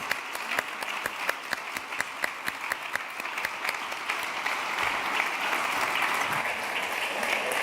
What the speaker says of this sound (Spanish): Un gran aplauso para estos 3 magníficos expositores